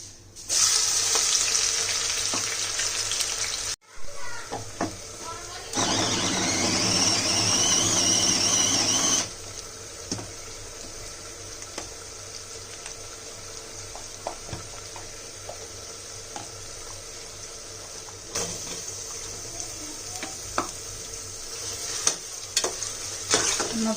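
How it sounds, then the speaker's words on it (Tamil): Small shallots and large onions, 100 g each, frying in a pot for Sunday mutton biryani. A loud hiss surges in bursts, then settles into a quieter steady sizzle with scattered stirring knocks. "நம்ம இப்போ சின்ன வெங்காயம் 100 கிராம், பெரிய வெங்காயம் 100 கிராம் ஈவனாக போட்டிருக்கோம்"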